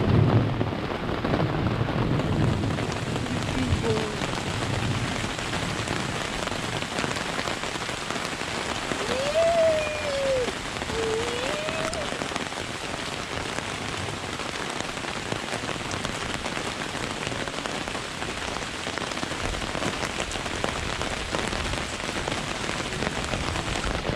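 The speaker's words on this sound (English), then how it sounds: "It's a thunderstorm. It'll pass in 30 minutes or so." Steady thunderstorm rain pours onto a campsite in East Texas woods, a dense continuous hiss of drops on surfaces at even loudness throughout, with no voices.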